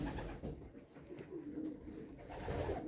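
Pigeons cooing in a loft, a steady run of low, soft throaty coos close by with faint rustling and no talk.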